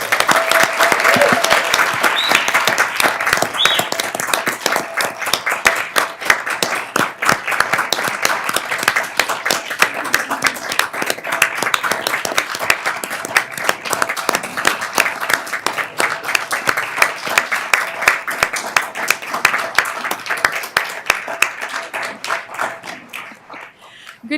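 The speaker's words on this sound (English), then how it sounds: "Let's give them a round of applause." A long round of applause from the audience at a school district board meeting, dense and steady clapping that carries on for over twenty seconds with no talking over it.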